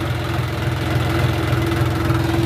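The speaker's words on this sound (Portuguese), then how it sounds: "Tô trabalhando aqui com o John Deere 50-55E, trator de 55 CV." Steady, loud diesel engine drone from a 55 hp John Deere 5055E tractor in first gear, pulling a subsoiler through farm soil, with a constant low throb and a faint hum, no talk.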